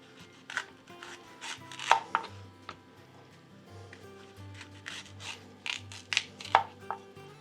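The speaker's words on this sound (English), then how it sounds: "you're going to just cut rings out of that" A knife slices through a sweet pepper on a cutting board, making crisp, irregular chops spaced a second or so apart, close and fairly quiet, with a faint low hum underneath.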